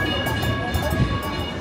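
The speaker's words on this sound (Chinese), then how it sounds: "伊斯坦堡最知名的电车。" An Istanbul tram passes on its rails on a busy street, giving a steady, loud rumble with light rhythmic rail clicks and a faint murmur of people in the background.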